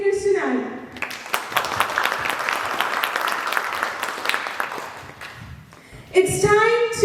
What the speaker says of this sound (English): So let's give a round of applause for all the speakers tonight.